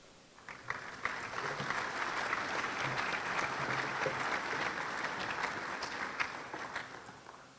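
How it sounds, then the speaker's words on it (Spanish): Audience applause greeting a speaker at a conference, a sustained wash of clapping hands that swells quickly, holds steady for several seconds, and then thins out. "a quien recibimos con un fuerte aplauso"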